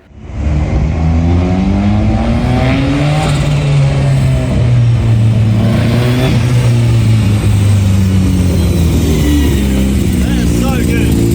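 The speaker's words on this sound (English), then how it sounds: "we had to take the car for a cheeky wee test drive before putting it on the trailer the next day" Fake Lamborghini replica fitted with a turbocharged 13B rotary engine on a test drive, revving loudly and continuously with rising and falling engine pitch as it accelerates, close and steady throughout.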